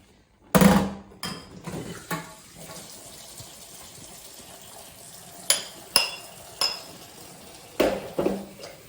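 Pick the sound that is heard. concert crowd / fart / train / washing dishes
washing dishes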